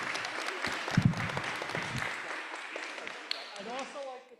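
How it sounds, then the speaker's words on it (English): Applause from an audience at a Board of Education meeting, a dense spread of clapping that carries on steadily, with a voice starting to speak near the end. "let's have a round of applause for Mr. Kingsley"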